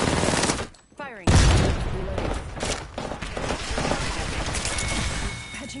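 Gunfire in the video game Apex Legends: a loud burst of rapid shots with a brief gap near the start, then sustained automatic fire rattling on and off under some background voices.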